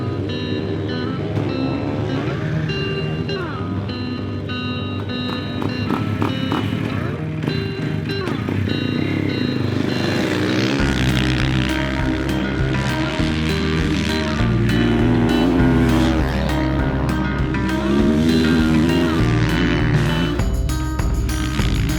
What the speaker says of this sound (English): ride KTM's Factory Edition 450